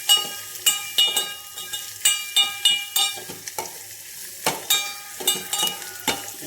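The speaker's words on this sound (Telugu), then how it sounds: "కొంచెం వేగనిద్దామండి" Ground coriander, cumin, garlic and pepper powder frying in a pan for rasam, a soft sizzle under a steady series of sharp metal spoon clinks and scrapes as the spices are stirred.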